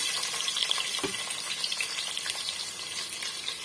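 Three medium sliced onions frying in a pan for tomato rice, a steady close sizzle with occasional stirring clatter and one brief knock, no talking.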